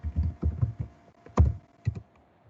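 Computer keystrokes tapped in short bursts at a desk, a few quick clusters of clicks with pauses, close and fairly quiet.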